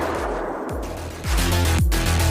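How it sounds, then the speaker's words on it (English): Rapid bursts of gunfire as thugs shoot up restroom stalls, loud and close, with several sharp repeated shots building into a sustained volley over a low rumble. "The thugs start shooting up the stalls."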